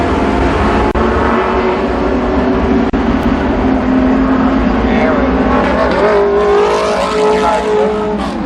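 Race cars at Columbus Motor Speedway roar loudly as they circle in formation, engines revving and rising in pitch as cars pass close by, with an announcer talking over the din.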